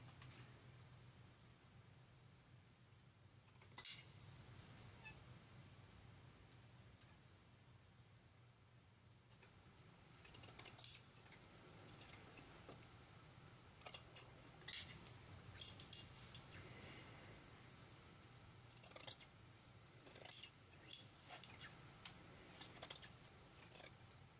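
Scissors trim the seam allowance on sweater fabric, giving quiet irregular snips and crisp clusters of cuts that grow busier toward the end, close up with no talking.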